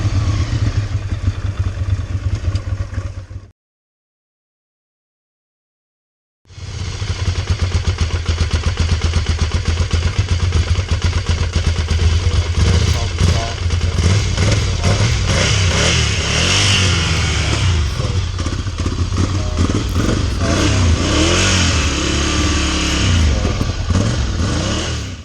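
Ducati Monster 696 motorcycle engine misfiring under load; a loud, close engine runs with an uneven, popping note, cuts out briefly for a few seconds, then resumes with rough revving and clatter.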